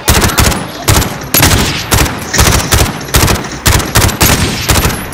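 Bursts of automatic gunfire from a gun in Call of Duty Warzone, loud and close, with about nine rapid volleys separated by short pauses, no voices over them.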